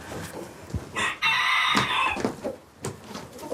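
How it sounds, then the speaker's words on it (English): Light Sussex chickens on a farm cluck and call nearby, with a loud drawn-out rooster crow rising in the middle over scattered clucks, all close and without speech. "These are my chickens I brought over, and they're light Sussex is the breed."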